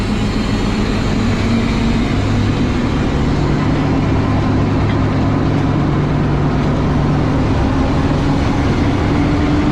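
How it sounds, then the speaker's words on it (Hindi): A locomotive coupling to the Kohat Express in a Pakistan railway yard gives a steady low diesel engine rumble with a faint humming tone, constant and fairly loud, with no clear clanks. "जी लोकोमोटिव अटैच हो गया है कोहाट एक्सप्रेस का"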